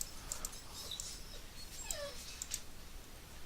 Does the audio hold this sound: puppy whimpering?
yes